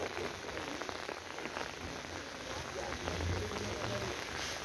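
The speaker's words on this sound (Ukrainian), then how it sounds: "ось дощик отак іде" Soft, steady rain pattering on surfaces nearby, a continuous diffuse hiss with faint drips and no voices.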